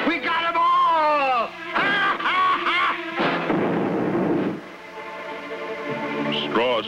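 Gunfire in a 1966 Lone Ranger cartoon: a rough, booming burst of shots lasting about a second, sandwiched between animated voices talking and laughing.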